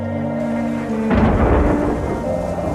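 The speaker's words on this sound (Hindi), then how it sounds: "तभी बहुत जोर से बिजली कड़कती है और बहुत सारा पानी घर के अंदर आने लगता है।" A heavy winter thunderstorm sounds over a village house. A loud, close thunder crack breaks into a rumbling roar, set against a steady wash of pouring rain.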